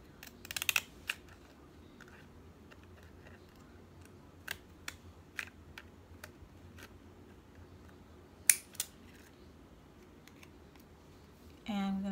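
Scissors trimming a Dollar Tree paper note card, a few scattered crisp snips at irregular intervals, faint and close, amid quiet room tone.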